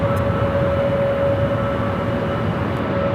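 A United Airbus A321neo on its takeoff roll at LAX gives a steady, loud jet roar with a constant whine, heard from close by with no voices.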